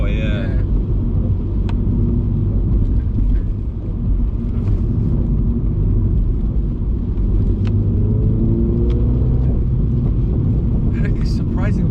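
A Mini John Cooper Works car rumbles low and steady while driving on a road, heard from inside the cabin under ongoing conversation.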